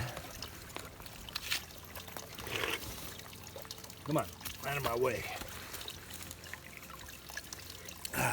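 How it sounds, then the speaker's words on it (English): Spring water trickles and pours steadily from rocks, with a voice speaking briefly over the flow. "seeing the clean water coming out of the rocks"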